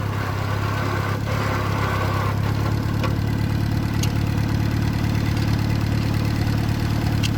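An old tractor bought cheap with a locked-up engine runs rough, a loud, close, continuous low rumble with an uneven throb and a few faint clanks over it.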